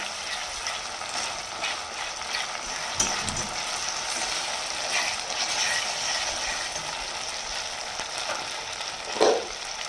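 Ginger and garlic fry in hot oil in a pan with a steady, close sizzle throughout, and occasional stirring scrapes and clinks break through it. No one speaks.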